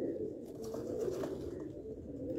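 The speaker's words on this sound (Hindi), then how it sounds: "बड़े आला कबूतर बने हुए" Low, continuous cooing from Sialkoti breeder pigeons fills a short stretch, close and steady with no voices over it.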